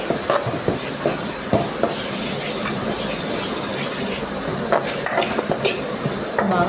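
Dry fruits frying in ghee and oil in a pan for laddu, heard as loud, continuous metallic clatter and scraping of a utensil against the pan with a busy sizzling wash behind it.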